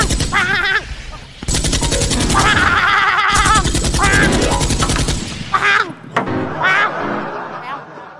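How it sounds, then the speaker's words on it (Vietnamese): Rapid bursts of fake-gun fire from a Vietnamese Lunar New Year comedy sketch, two long loud volleys of machine-gun-like shots, with voices speaking briefly before and after. "con cháu mà sao bắn dữ vậy trời"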